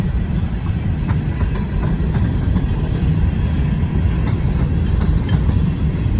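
Freshly painted CSX freight train hopper cars rolling past up close, a loud continuous rumble with faint clickety-clack of wheels over rail joints, no talk.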